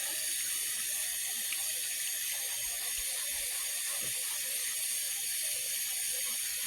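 Steady broadband hiss of a faucet running water into a sink while rust is scrubbed off an axe head, continuous and fairly close, with a few faint clinks underneath.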